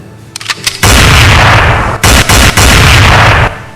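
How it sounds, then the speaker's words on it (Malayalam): Loud gunfire sound effect in a Malayalam audiobook drama: a few quick shots build into sustained, heavy volleys of booming shots with brief breaks between them, dominating the sound with no voice over it. "അവൻ താഴേക്ക് വീഴുമ്പോ അവന്റെ അനുയായികളുടെ തോക്കുകൾ തീ തുപ്പാൻ തുടങ്ങിയിരുന്നു"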